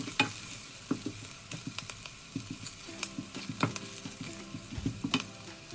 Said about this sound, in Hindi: थोड़ा सा हिला लेंगे।